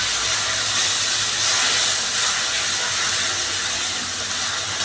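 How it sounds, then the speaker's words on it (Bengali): Onion paste sizzling in hot oil after bay leaves have fried, a steady loud close hiss that holds evenly throughout with no talk. "এই যে পেঁয়াজটা পেস্ট করা আছে, এটা আমি তেলের মধ্যে দিয়ে দিলাম।"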